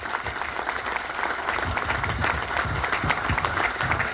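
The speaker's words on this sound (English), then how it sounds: "A round of applause for having this house full for Jack." Indoor audience applause at a community event with a full house, dense continuous clapping with some low rumble and shuffling beneath.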